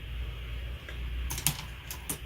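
Quick bursts of keystrokes on a computer keyboard as a short note is typed, clicks clustered in a few uneven groups over a steady low background hum, close and fairly crisp with no talking.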